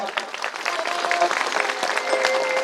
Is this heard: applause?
yes